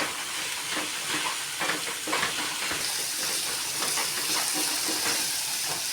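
Sliced onions with a pinch of salt sauté in a pan, giving a continuous hissing sizzle with occasional stirring scrapes, steady and fairly close with no talking.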